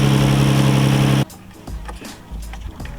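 Nissan GT-R engine after a misfire repair, droning loudly and steadily at idle up close for about a second before cutting off abruptly, then followed by quieter low rumbles and scattered knocks.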